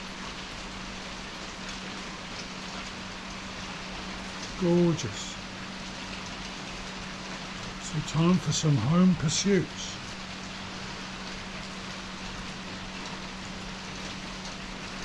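Steady rain falls in Sarande, Albania, a soft, constant hiss that runs the whole time while a person speaks briefly twice over it.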